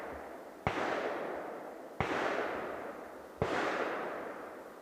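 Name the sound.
distant gunshots from a large firearm at a shooting range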